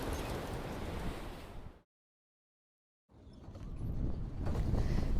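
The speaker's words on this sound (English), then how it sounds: "Since this terrible wind started blowing" A terrible, strong wind blows loudly in a broad rushing roar, cutting out to silence for about a second before gusting back even stronger.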